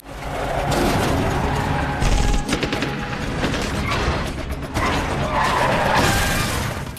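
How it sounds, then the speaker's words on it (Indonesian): Gunfire from the back of a truck during a film car chase after a drug lord, dense and loud, blended with roaring vehicles, skidding and clattering mechanical noise that runs through the whole stretch. "terus mencoba menghalangi para pengejar dengan terus melepaskan tembakan"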